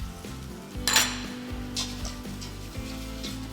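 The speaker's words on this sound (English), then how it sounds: "We're going to go in with our turmeric now and stir." Turmeric is stirred into rice in a cooking pot, a metal spoon scraping and clinking against the pot with a sharper clang near the start, over a soft sizzle and a low steady hum.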